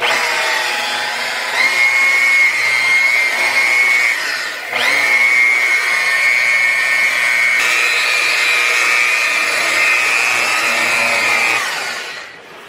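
A high-pitched KAS power polisher whines steadily at high speed removing sanding marks, briefly dipping in pitch midway before running on and winding down at the end.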